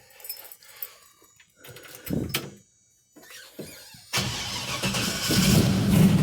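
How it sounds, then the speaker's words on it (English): A 1961 Chevrolet Impala engine cold-starts after some clunks and shuffling, catching abruptly and settling into a loud, steady chugging idle nearby. "let's fire this thing up. We'll do a cold start real quick and let it chug around"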